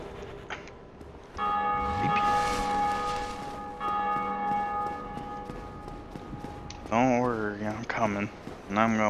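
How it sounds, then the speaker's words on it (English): A bell rings in the video game Dark Souls, a sustained metallic tone that rings out and decays under game sounds, followed by a voice talking near the end. "And I'm gonna be ringing that bell."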